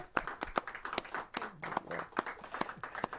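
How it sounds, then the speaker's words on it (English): A standing audience at a city commission meeting claps for a Red Cross volunteer, a fairly faint scatter of individual hand claps with uneven rhythm, sounding like a small room rather than a large crowd. "Please join me in standing and applauding an outstanding and exceptional"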